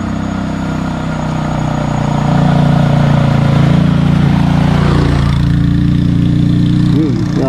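A motorcycle engine running on a rural province road, a steady low mechanical drone that grows louder partway through, with people talking over it.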